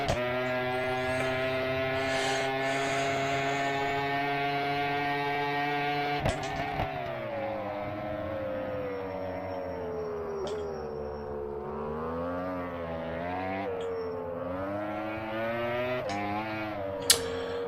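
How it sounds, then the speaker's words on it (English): Sustained motorcycle engine drone in the GP Bikes racing game, a World Superbike bike on stock setup held at high revs throughout, with rising and falling pitch sweeps and a few short blips, steady and loud with no talk. "Fucking revs for days."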